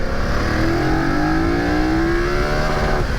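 A BMW F900 GS enduro motorcycle engine accelerates hard on tarmac, its loud, close exhaust note climbing steadily in pitch through a single sustained pull before easing off near the end, with no talking.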